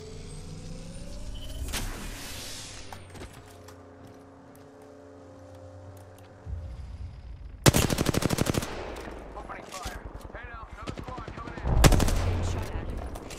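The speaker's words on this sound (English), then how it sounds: "Opening fire." Bursts of rapid automatic gunfire ring out in a ranked squad-based shooter match, loud close rattles separated by quieter stretches with engine hum and faint game sounds.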